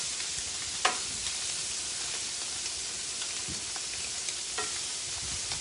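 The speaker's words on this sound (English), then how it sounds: "Get a nice little sear on them." Shrimp and scallops sear in a hot pan with a dense, steady, hissing sizzle, close up, broken by a few faint clicks and scrapes, with no voices.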